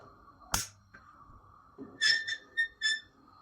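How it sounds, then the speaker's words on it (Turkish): Several short, shrill hissing whistle bursts in quick succession, preceded by a sharp clatter, from a nearby Fissler pressure cooker as food comes to the boil. "Düdüklünün sesi de bu şekilde."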